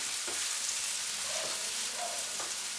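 Onion frying in a pan for a Spanish tortilla makes a soft, continuous sizzle with a few faint stirring clicks, quiet and close, with no one speaking.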